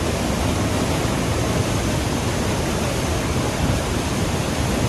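Rushing water of the Franklin River surges around a raft as a loud, steady, unbroken roar that fills the whole stretch, with no voices.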